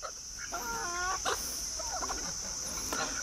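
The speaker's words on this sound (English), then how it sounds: "this is only 6 chickens." Six chickens in a coop cluck softly in short bursts over a steady high hum, a few birds close by with no one talking.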